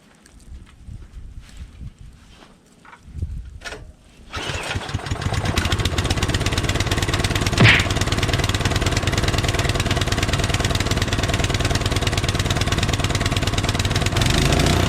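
A Troy-Bilt 2620 gas snowblower, primed and choked for a cold start at full throttle, starts after a few quiet seconds and settles into a loud, steady close-up running drone as it warms up.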